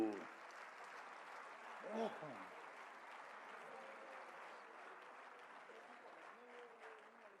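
Audience clapping at an on-stage National Youth Day function: steady, fairly quiet crowd applause lasting the whole stretch, with a brief swell near the start and some voices mixed in.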